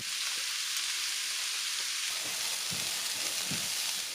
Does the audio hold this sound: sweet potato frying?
yes